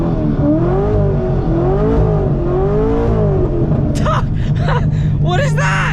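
A straight-piped Corvette engine revs and accelerates loudly, its pitch rising and falling in surges, with excited voices breaking in over it toward the end.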